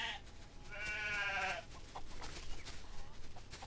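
A sheep in a Minecraft-style solarpunk video game gives one wavering bleat near the start, followed by softer scattered game sounds at low volume.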